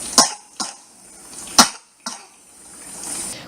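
A sick two-year-old boy coughing, four sharp separate coughs spaced unevenly, close and fairly loud, followed by a breathy pause.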